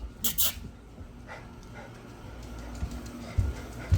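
Big dogs bark and whimper in short bursts, some sharp yips near the start and a few lower woofs toward the end, moderately close outdoors by a front door.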